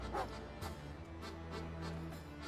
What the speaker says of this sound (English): Dog just fucking barking at it.